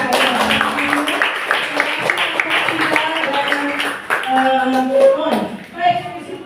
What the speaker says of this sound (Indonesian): Kita beri tepuk tangan untuk teman kita